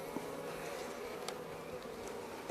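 Honeybees buzz steadily at a hive in a queen-rearing apiary, a dense, even drone held throughout at moderate level with no voices.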